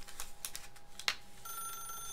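Telephone ringing in The Stanley Parable, a faint electronic trill with quiet clicks and taps around it, a thin steady tone emerging in the second half, soft and somewhat distant.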